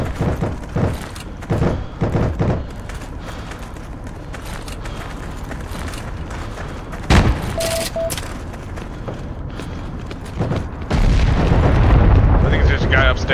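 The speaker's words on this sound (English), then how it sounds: "No, I'm shooting at a guy." Gunfire in the Heroes & Generals shooter game: a run of sharp shots and booms, some in quick bursts, rings out across a busy battle soundscape, with a louder rumbling stretch near the end, while players talk over it.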